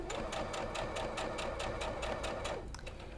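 A sewing machine stitches a seam in a flying geese zig zag quilt block. Its rapid, even mechanical chatter runs loud and steady from close by, then slows and eases off near the end.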